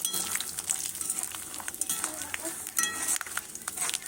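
Peanuts fry in a karahi, a soft sizzle running underneath as a spatula stirs and scrapes, with scattered clinks of metal and some quiet talk nearby.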